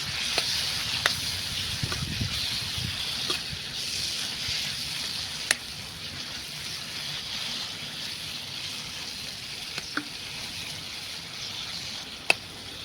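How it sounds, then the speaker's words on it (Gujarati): A spoon stirs a tempered raw mango dish with chili powder and turmeric in a pan, giving sporadic light clinks over a faint, steady sizzle. "તો 30 સેકન્ડ સુધી આપણે આવી રીતે મિક્સ કરવાનું છે."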